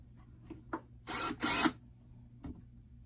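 Two short bursts of a power drill boring into wood for a DIY patio railing tray, standing in for a countersink on screw holes, each lasting under half a second, close and fairly loud amid light handling clicks.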